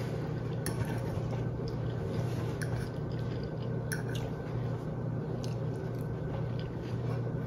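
Crunchy vegetables with coconut curried tofu are chewed close to the mic, giving repeated soft crunching bites and wet squishy mastication over a quiet room background.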